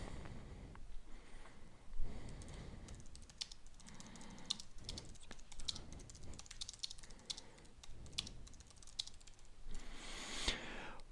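Someone types a code comment on a computer keyboard, close and quiet, with irregular bursts of rapid keystrokes broken by short pauses.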